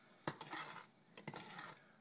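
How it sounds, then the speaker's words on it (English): Cashew brittle candy mix being stirred in a pot, a few sharp scrapes and knocks of the utensil against the metal over a soft sizzle, close but fairly quiet. "there's our mix, which I should probably be stirring"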